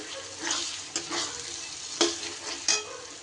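Chopped tomato going into a frying mutton curry masala: a continuous sizzle broken by several distinct scraping stirs of a spoon through the pan.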